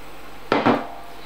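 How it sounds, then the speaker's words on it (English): Wooden spoon stirring plain flour into melted butter in a pan for parsley sauce: a sudden clatter against the pan, then a short scraping, mixing rustle that fades, with no talking. "I'm going to stir in 60 grams of plain flour with my wooden spoon and beat it into a paste basically."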